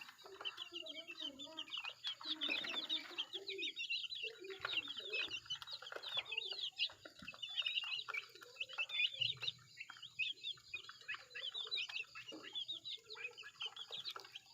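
Chickens and a brood of chicks in a coop, with thin high peeping from many chicks and lower clucks and murmurs from the hens, fairly faint and continuous throughout.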